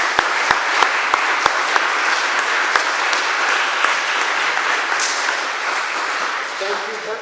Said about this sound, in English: let's give Ross and Chris a round of applause